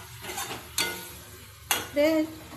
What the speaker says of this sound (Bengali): আর চিকেন কারি মশলাটা আমি পুরো সব ঝেড়ে দিলাম এবার আবারও আমি একটু কষিয়ে নেব